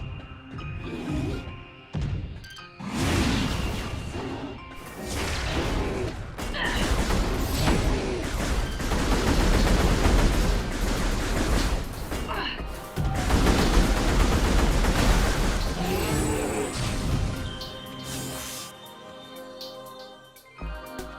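Missile shots in Metroid Prime Remastered go off as a series of sharp, loud blasts and crashing impacts in clustered bursts, separated by short lulls and mechanical clicks and hums.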